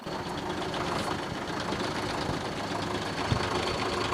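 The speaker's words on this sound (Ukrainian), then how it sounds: "Тоді дорогу розмиває автобуси, як на ось цьому відео доводиться витягувати трактором." A tractor engine drones heavily and steadily while pulling a stuck bus out of a muddy, rain-washed road, with a low rumble and a faint thud near the end.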